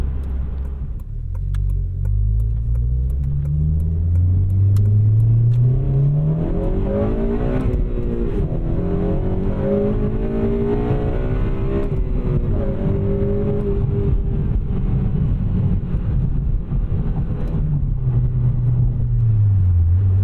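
A Honda Civic Si (8th generation) with a 3-inch catback exhaust drones steadily under load in 5th gear, a low exhaust rumble rising and falling in pitch as the car climbs, loud and continuous.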